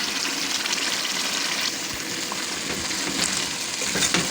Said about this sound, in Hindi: मसाले में डाल के मैं इनको अच्छी तरह इसके साथ बुनाई कर लूँगी